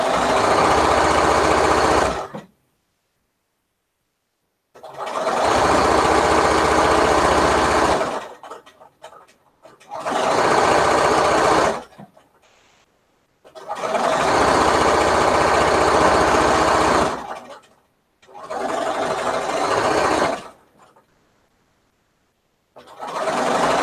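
Sewing machine stitching a blanket for Raggedy Ann and Andy dolls, running in five loud, close bursts of several seconds each with silent pauses between.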